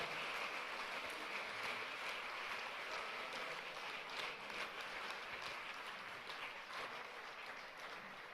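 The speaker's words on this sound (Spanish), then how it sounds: "Vamos a dar un aplauso fuerte al Señor por sus vidas." Church congregation gives a strong, sustained round of applause for the fathers called forward, a quiet, even clatter of many hands heard from afar for several seconds.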